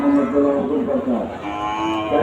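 A bull moos in long, drawn-out lowing calls close by, with the murmur of the crowded outdoor Chandaikona cattle market and voices talking in the background.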